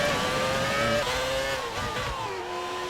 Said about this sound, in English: These engines just scream.